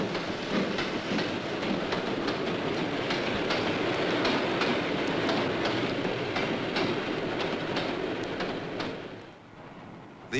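A train rumbles steadily along the rails with rhythmic clicking of wheels over joints, loud and continuous, easing off slightly near the end.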